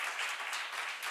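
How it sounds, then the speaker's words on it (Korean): A church congregation applauding during a sermon, a brief dense burst of many hands clapping together at moderate loudness, with no voices over it. "박수 좀 세게 쳐요."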